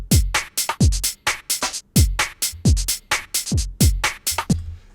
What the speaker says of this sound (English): Shaker sounds like this.